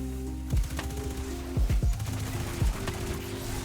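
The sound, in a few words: gunfire shooting the servitor in the Destiny video game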